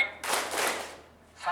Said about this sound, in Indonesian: Pak Kepsek berkata, tepuk tangan 1 kali